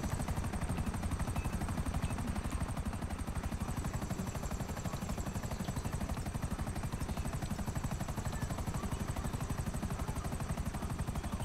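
A Sea Sparrow helicopter in a video game flies steadily, its rotor chopping in a fast, even rhythm with a droning engine whine, loud and continuous with no talk.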